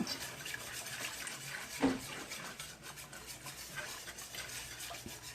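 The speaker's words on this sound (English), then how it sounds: "And you need to whisk." Milk being whisked into a Southern breakfast gravy in a pan on a hot burner makes a soft, rapid, continuous scraping and swishing, fairly quiet, with one brief louder knock partway through.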